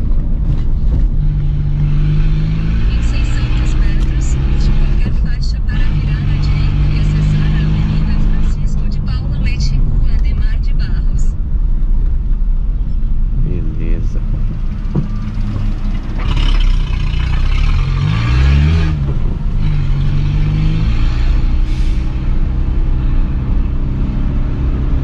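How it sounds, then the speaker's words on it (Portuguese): A Peugeot 206 struggling in cold weather, its engine note uneven and rough as it drives, with road noise and a passing vehicle nearby while someone talks over it. "Carro engasgando tudo pra andar."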